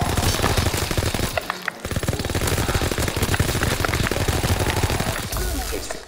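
A gun in Call of Duty WWII zombies mode fires in rapid automatic bursts, loud and dense for several seconds with a brief pause in the middle, and a voice talks faintly beneath the gunfire.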